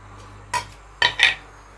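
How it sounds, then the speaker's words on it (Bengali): A spoon stirs mung dal laddu mixture in a pan, giving a few short, close metallic scrapes and clinks against the pan in quick succession over a quiet background. "এভাবে নাড়তে থাকবো, নাহলে দলা পেকিয়ে যাবে।"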